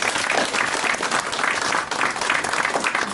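A crowd at a panel discussion applauds the event organisers, a full, steady burst of clapping that stays loud and even throughout.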